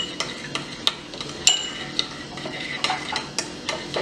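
A spoon stirs instant coffee with about two tablespoons of water, giving a run of sharp, irregular clinks and scrapes against the cup. The stirring is close and alone, with no voices.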